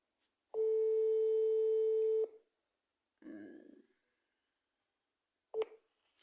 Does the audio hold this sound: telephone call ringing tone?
yes